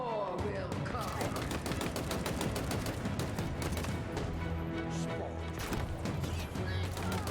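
Rapid enemy gunfire in the sci-fi shooter Halo Infinite, a dense, loud, continuous barrage of automatic shots with crashing impacts, sustained across the whole stretch.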